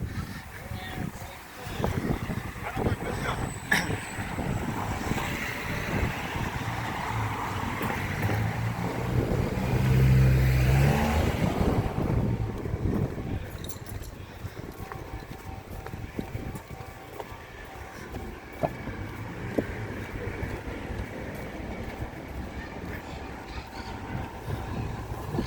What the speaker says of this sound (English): A little bit windier here today in Benalmádena. You can probably pick it up on the microphones.